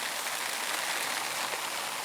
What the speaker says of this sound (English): Of course, it'd start raining the minute we tried to start a fire, huh?